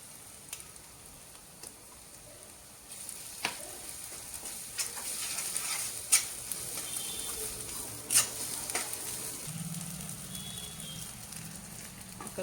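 Ginger garlic paste fries with onion in a pan, making a quiet, steady hiss with a few soft stirring clicks and taps. No one speaks.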